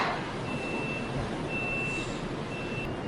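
A Yale sit-on high-reach truck runs with its warning beeper sounding in evenly spaced high tones over a steady electric motor hum and background rumble, recorded close by.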